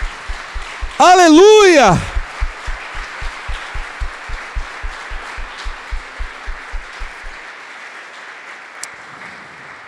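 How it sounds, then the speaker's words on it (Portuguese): A church congregation applauds with steady, evenly spaced claps that keep a beat for about seven seconds before stopping. Near the start, a loud voice calls out over the clapping. "Vamos dar um forte aplauso ao Senhor"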